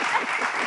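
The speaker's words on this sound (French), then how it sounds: "est-ce qu'on peut applaudir pour l'émission La Pause?" A studio audience at a French-language show claps in a dense, even burst of applause, brief and fairly loud.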